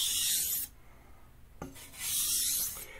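Sharpening a santoku knife's bevel on a finer whetstone after 300 grit gives two rasping strokes of steel sliding across the stone, close and clear, separated by a quiet pause with a light tap.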